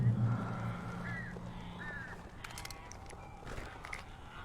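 Crows caw a few times in the Alan Wake video game, faint and distant over a steady low ambient rumble of the game's outdoor setting.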